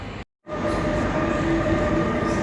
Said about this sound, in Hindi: दोस्तों ये ट्रेन आ गई है।